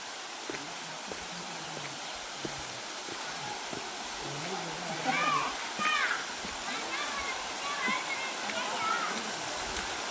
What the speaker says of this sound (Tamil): நாங்கள் மங்கள அருவிக்கு வந்திருக்கோம்